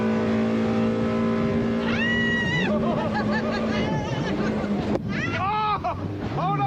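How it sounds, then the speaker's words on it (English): A Corvette jet car accelerates at full throttle, a loud sustained roar with rising whistling tones and splashing, recorded close with wind buffeting and brief voices. "your first impression of the jet car, the Corvette"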